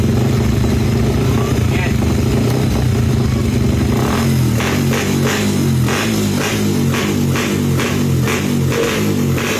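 A motorcycle engine, freshly running after its piston was cleaned with rubbing alcohol, idles loudly and close with a fast, steady putter, then settles into a slower, pulsing chug while someone speaks briefly over it.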